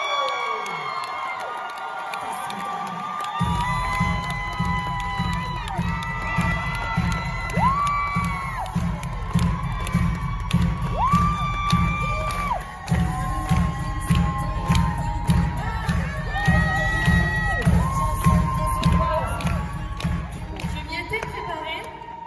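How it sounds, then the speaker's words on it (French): Loud cheering and whooping from an audience welcoming a speaker on stage, with steady music underneath and crowd voices throughout. "on vous prie d'accueillir et de faire aussi un tonnerre d'applaudissements pour Carla."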